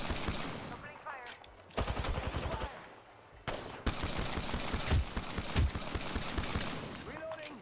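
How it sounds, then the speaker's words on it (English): Rapid bursts of gunfire in an Apex Legends ranked match with a P2020 pistol, close and loud, in repeated volleys separated by short pauses, with game voice lines and talk mixed in. "Enemy spotted. Opening fire."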